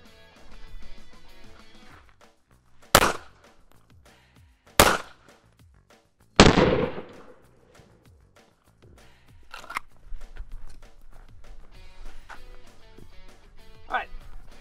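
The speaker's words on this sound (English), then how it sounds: "So three center hits with 9mm, just regular 124 grain ball impact here." Three 9mm 124-grain ball rounds striking a Level 3 body armor plate ring out as loud, sharp bangs spaced a couple of seconds apart, over quieter background music.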